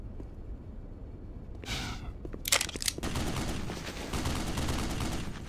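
Gunfire from an enemy in the video game Black Mesa: Xen, a rapid burst of sharp shots followed by a dense, sustained rattle of fire over a noisy background.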